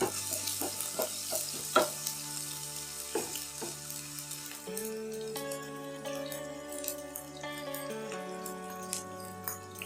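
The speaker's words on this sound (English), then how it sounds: "we'll add the chopped ginger. Give it a stir." Chopped ginger stirred into a frying pan for a raw mango gravy, with a soft oily sizzle under clinks and scrapes of a spoon against the pan, followed by a longer ringing tone near the end.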